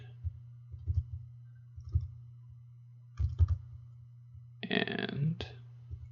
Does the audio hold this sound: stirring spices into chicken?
no